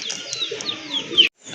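Pigeons coo at a pigeon farm, a close, clear run of throaty cooing and soft warbling calls that ends abruptly.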